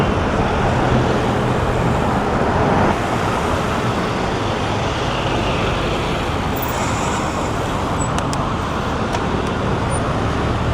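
A bus pulls out in busy central London traffic on a hot summer day, with a loud, steady roar of engines and road noise heard up close throughout.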